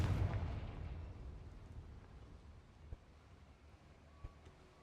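A Confringo spell explosion in a Harry Potter video game: a deep booming blast at the start that fades into a long low rumble, with a couple of faint pops afterward.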